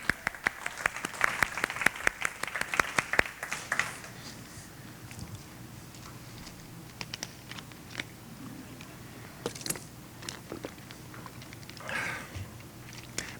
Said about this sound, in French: Alors, bravo, hein? On s'applaudit.